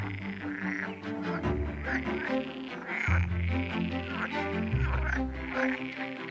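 Frogs croak steadily in the Cotentin and Bessin marshes, a dense overlapping chorus of repeated low calls that carries on loudly throughout with no talking.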